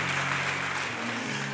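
A church congregation at a Sunday service claps and cheers in a dense, steady wash of applause that carries through the whole moment.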